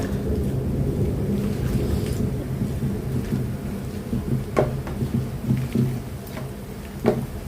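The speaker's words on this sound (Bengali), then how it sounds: "বাইরে যেই বৃষ্টি হইতেছে" Heavy rain falls outside a kitchen window, a steady dense patter with deep rumbling undertones and occasional sharper drops, fairly close and continuous throughout.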